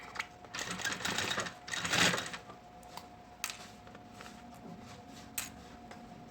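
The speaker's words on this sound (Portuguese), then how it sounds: "Vai costurando e tirando o clipe." A sewing machine stitches a synthetic leather school pencil case, running in a busy burst early on and then slowing to sparse, separate ticks and clicks at close range.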